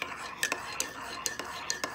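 A spoon stirs instant coffee with creamer in a cup, giving several light, evenly spaced clinks against the rim, close and fairly quiet.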